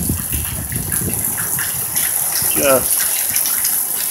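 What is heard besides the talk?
rainwater puddle draining out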